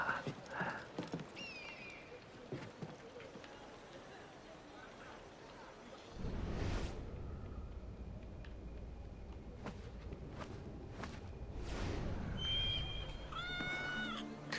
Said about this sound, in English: Ah, here's a cat.